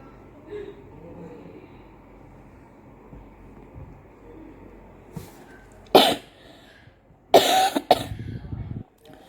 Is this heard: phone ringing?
no